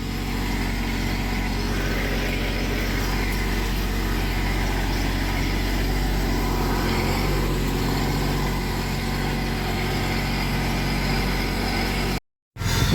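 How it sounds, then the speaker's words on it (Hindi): Tractor moving through a sugarcane field: a steady, close, mid-pitched engine drone runs unbroken for many seconds with a rough, rumbling texture, cut off briefly near the end. "बाकी ट्रैक्टर यहाँ से निकल रहा है"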